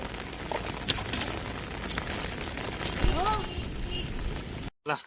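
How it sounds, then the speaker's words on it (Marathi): Heavy monsoon rain falls steadily in rural Konkan during the paddy planting season, a dense continuous hiss that stays loud throughout, with a brief break near the end. "पाऊस पण बघा खूप पडतो पाऊस"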